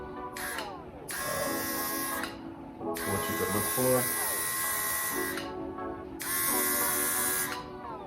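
An Anesty AHPPro high-pressure cordless airbrush sprays in three bursts of a few seconds each, with a steady hiss and a motor whine that start and stop. A person talks throughout.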